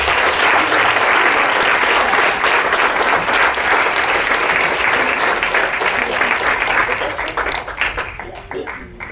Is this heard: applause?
yes